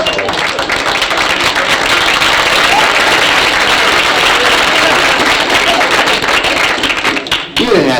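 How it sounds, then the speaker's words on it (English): A live audience applauds after a comedy story on a 1968 Flip Wilson vinyl record, a loud, dense wash of clapping that holds steady for several seconds before breaking off abruptly near the end. "You didn't have to applaud, because my manager told me to stop doing that story."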